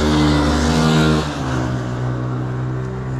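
A motorbike ridden by kids roars past up close, its loud engine drone holding steady and then dipping in pitch around the midpoint as it goes by, continuing as a strong hum.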